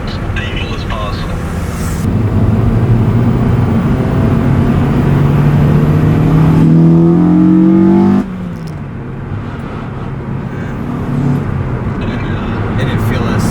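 A rebuilt Acura TSX engine holds a steady cruising drone at constant throttle, with broadband road and wind noise, a faint rising tone, and a change in character partway through.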